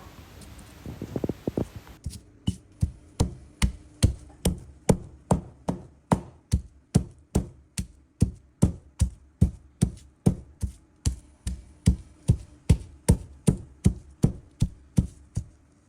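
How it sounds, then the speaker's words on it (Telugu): A stone mortar pounding curry leaves and garlic cloves for a brinjal tomato chutney, a steady run of about thirty sharp, evenly spaced thuds, close and loud, with no voices. "ఇందులో కొద్దిగా కరివేపాకు వెల్లుల్లి రెబ్బలు వేసుకొని దంచుకుంటున్నాను"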